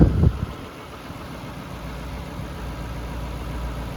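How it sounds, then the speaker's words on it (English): A 2009 Lexus LS 460L V8 engine idles steadily with a low, smooth rumble, after a brief knock at the start. "sitting there idling, I mean, it's like a sewing machine"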